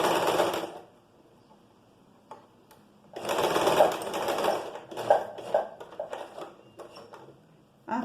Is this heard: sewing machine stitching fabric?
yes